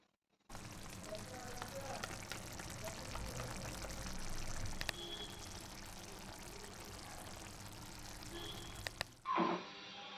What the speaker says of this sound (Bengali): এবারে ঘি আর গরম মশলা দিয়ে দেবো।